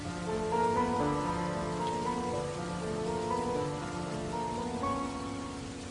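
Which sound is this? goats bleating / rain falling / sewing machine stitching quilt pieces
rain falling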